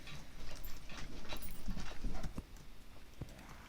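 A pet dog's claws click and patter across a hard indoor floor as she walks away, a quick, steady run of light taps close by in an otherwise quiet room.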